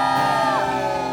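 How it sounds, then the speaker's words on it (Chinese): A church congregation at a worship service, for a regional church anniversary celebration in Kaohsiung, lets out a short burst of loud whooping and cheering, a brief crowd shout that swells and fades within a second. "我们中间的朋友欢呼声！"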